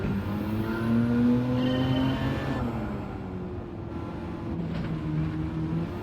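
Car engine in Gran Turismo 7, short-shifted on a circuit lap, a steady loud engine drone with pitch climbing and dropping at each early gear change, continuous and close.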